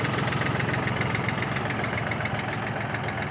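A 1980 Kubota tractor's diesel engine with mechanical fuel injection idles steadily up close, a loud, even chugging with a rough knocking pulse throughout and no voices.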